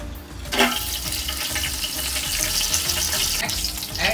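Biryani spices frying in hot oil for chicken biryani, a steady close sizzle and crackle with a brief stir or clatter partway through, no talking.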